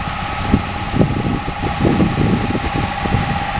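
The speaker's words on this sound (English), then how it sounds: "that is a big John Deere farm tractor" A big John Deere farm tractor collecting seaweed on a beach, its engine a steady low rumble at moderate distance with wind buffeting the microphone throughout.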